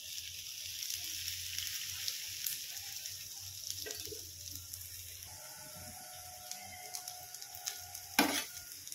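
Poha thalipith frying in a little oil on a pan, a soft continuous sizzle with occasional light scrapes and a brief louder clatter near the end.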